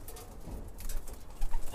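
Pigeons coo softly in a brief, close, murmuring burst with no voices over it.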